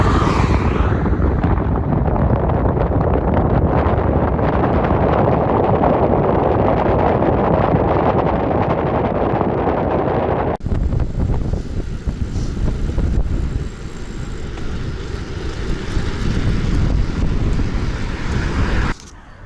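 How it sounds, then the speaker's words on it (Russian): Strong, loud wind roars steadily across the microphone while riding an Outleap Hardway S 2022 bicycle into a headwind in spring, with the gusting rumble continuing for the whole stretch. "Ветер тут капец какой дует."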